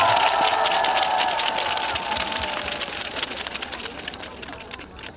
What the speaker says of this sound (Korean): 군수님께 다시 한번 큰 박수 부탁드립니다.